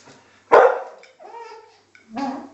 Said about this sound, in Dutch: Niet blaffen, Lily. Moet je niet blaffen